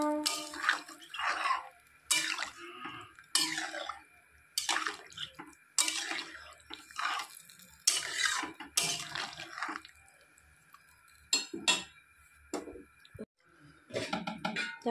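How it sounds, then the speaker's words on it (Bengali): Thin curry broth poured into a pan of katla fish cooking with raw banana, heard as repeated splashing bursts of liquid with short drips and pauses between pours, close by, with faint clinks of the pan. "ঝোলটা দিয়ে দিব। ঝোলটা একটু পাতলাই হবে।"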